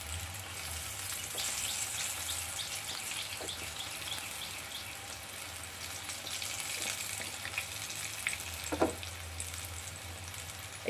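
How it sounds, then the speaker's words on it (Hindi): Vegetarian egg substitute fries in a pan with a steady, broad sizzle that holds throughout, dotted with small pops and crackles and one sharper clatter near the end; no one talks. "इस तरह से इसको फ्राई कर लेना है।"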